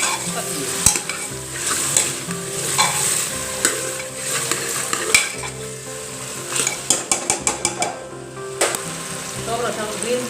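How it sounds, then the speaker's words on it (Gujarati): Pav bhaji masala, with green paste, turmeric, salt and red chilli powder, is stirred in a pan, giving a steady sizzle with repeated scraping and clinking of a spoon against the metal, close and fairly loud, with no talk. "હવે આપણે બરાબર મિક્સ કરી લઈએ।"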